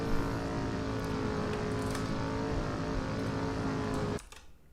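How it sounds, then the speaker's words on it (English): Car engine noise in the driving game Driver: San Francisco, a sustained, loud motor drone with a steady pitched whine that cuts off abruptly near the end. "Oh, there's car noises happening too."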